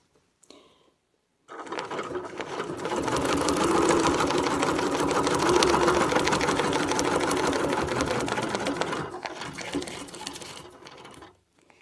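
A sewing machine stitches a wreath design along a template, starting after a short silence, then running in a steady, fast, close mechanical whir for about nine seconds before stopping.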